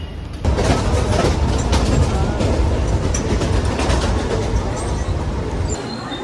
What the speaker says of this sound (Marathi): अजून ट्रेन पकडायची आहे